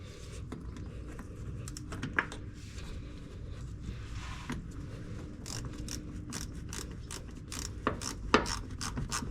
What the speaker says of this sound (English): Tighten down the clamp.